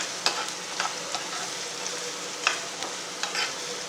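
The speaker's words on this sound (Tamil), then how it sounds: "இப்போ கறி லீவ்ஸ், கொஞ்சம் நேரம் இப்படி ஃப்ரை பண்ணிக்கிறேங்க." Curry leaves frying in a hot pan, giving a steady close sizzle punctuated by a few sharp stirring scrapes and clicks, with no talking.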